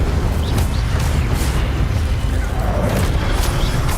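Incendio fire spell blasts from the video game Hogwarts Legacy, a steady roaring, booming rush of flame with repeated soft bursts running the whole time at a loud, constant level.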